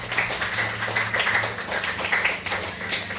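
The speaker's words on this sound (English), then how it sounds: "let's give John a big round of applause" An audience at a cookery demonstration in South Dublin claps in a steady round of applause, many hands patting together at close to moderate distance with a low background hum.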